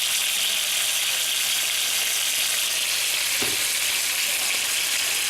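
Pork chops searing in a pan, cooked for a golden brown sear alongside mashed potatoes and pork gravy: a steady, loud hiss of frying fills the whole stretch, with one brief soft knock partway through.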